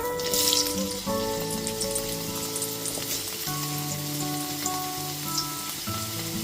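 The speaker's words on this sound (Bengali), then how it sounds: "তেলটা এখানে খুব ভালো মতো গরম হয়ে গেছে। তারপর কেটে ধুয়ে রাখা আলুর টুকরোগুলোকে দিয়ে দিচ্ছি।" Potato pieces hit hot mustard oil, a bright burst of sizzling at the start that settles into a steady frying hiss, close and clear, mixed with a melodic background tune and no speech.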